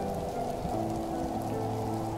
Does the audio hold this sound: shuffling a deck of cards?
no